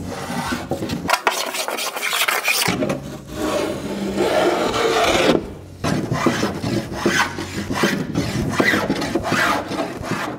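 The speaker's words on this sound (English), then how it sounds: "the very last part is hand sanding with a file and sandpaper" Hand sanding along the rail of a wooden 8-foot mini mal surfboard with a file and sandpaper gives steady rasping, rubbing strokes. The scraping runs close and continuous, with one short pause early on.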